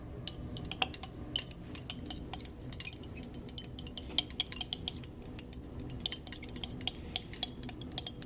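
Sodium hydroxide is stirred into a copper solution in lab glassware, giving quiet, irregular light clinks and taps against the glass.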